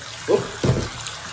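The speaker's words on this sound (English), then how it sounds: "I'm going to let a bit of water run through that" Water runs through newly fitted plumbing pipes during a bungalow renovation, in two short gushing bursts separated by a brief pause, fairly quiet and close.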